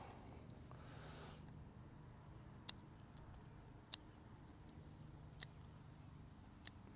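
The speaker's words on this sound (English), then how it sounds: "Cutting tips off so things can more multiply, ramify." Scissors snip the tips off a boxwood bonsai during trimming, four sharp isolated clicks spaced about a second apart over a quiet, low background hum.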